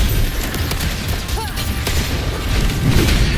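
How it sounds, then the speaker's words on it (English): Mortar blasts land in a Wuthering Waves battle: a series of deep, loud booms and rumbling thuds in close succession over a dense game soundtrack. "Another mortar thrown at us."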